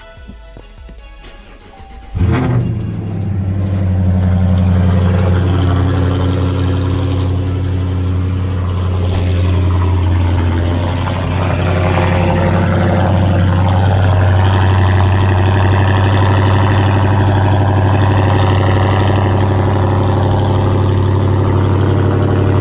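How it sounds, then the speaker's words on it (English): Cold start of a 750 hp Ford Shelby truck engine: a sharp crank and catch, then a loud, steady high idle with a deep rumble that holds close and constant, a slight rev swell midway. "So I'm gonna go ahead and give y'all a cold start real quick."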